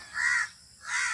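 Two harsh crow caws, one near the start and a second just before the end, with a short quiet gap between them and no talk.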